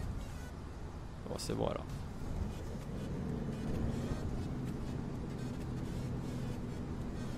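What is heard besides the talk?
vehicle passing in OMSI 2 bus simulator video game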